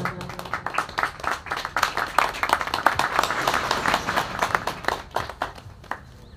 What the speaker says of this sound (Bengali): হাততালি, সকলে হাততালি।